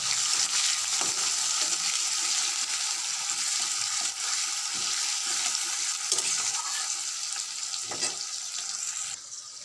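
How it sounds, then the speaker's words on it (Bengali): Onions frying in a pan give a continuous close sizzle, with soft scrapes and knocks of stirring scattered throughout and no voices. "পেঁয়াজটা ভাজা হচ্ছে"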